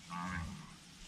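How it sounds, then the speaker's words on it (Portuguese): A cow moos once in an open pasture, a single fairly close, drawn-out low call that fades into quiet outdoor air. "Vou esperar as vacas sair."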